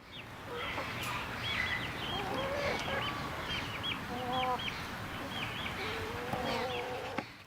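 Several chickens cluck and chirp as new pullets are introduced to a flock through a physical barrier, with overlapping calls from nearby birds over a steady outdoor buzz of insects.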